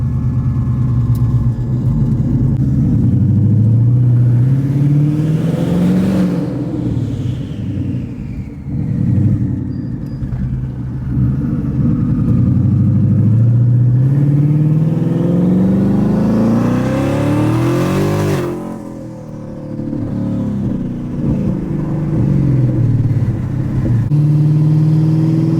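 A 1,000 HP Ford Mustang engine revs hard and loud over about 25 seconds in two long rising pulls, each climbing to a sharp peak and then dropping back. Backfire pops come off the top of each rev, and nobody speaks.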